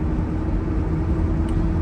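Steady low rumble of a car cruising on a road past a golf course on a commute, even and continuous with no voices.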